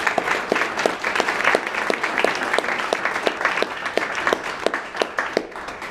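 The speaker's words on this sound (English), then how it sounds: "let's give everyone a round of applause." Audience applause at a Women in Bio panel event fills the room, steady dense clapping from a sizable crowd, fairly close and sustained throughout with no talk.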